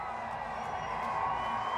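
A minor league baseball crowd fills the Myrtle Beach stands with a steady, spacious roar of cheering and chatter that holds at an even level and swells slightly toward the end.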